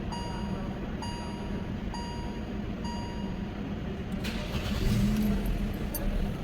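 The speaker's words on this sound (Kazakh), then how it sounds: "Машинаны оталдырып көргөзөйүн. Силерге оталышын угайлы." A 2019 Kia Rio 1.6 automatic is started: regular dashboard chimes beep about once a second, then the engine fires with a sudden broadband burst and settles into a steady, slightly louder idle rumble.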